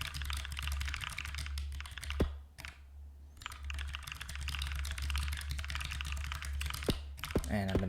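Rapid typing on a small split Corne keyboard, key clicks pattering close and steady with a brief pause midway, under a low background hum.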